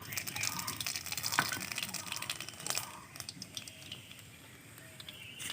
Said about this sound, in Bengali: এখন দিয়ে দেবো কালো জিরে।